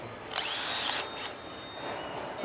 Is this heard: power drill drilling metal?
yes